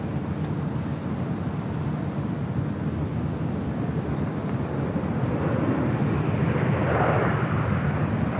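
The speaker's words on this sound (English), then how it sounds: "KLM Flight 602 taking off to Amsterdam on a 787-10 Dreamliner" A KLM Boeing 787-10 Dreamliner takes off at LAX, its engine rumble building steadily and growing louder toward the end, with no talk.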